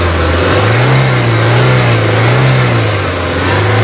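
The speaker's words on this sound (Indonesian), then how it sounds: "Mesin 16 valve 1800 cc." A 2004 Toyota Corolla Altis G's 1800 cc 16-valve engine revs steadily near the microphone, its pitch rising and falling in gentle waves over a continuous loud drone.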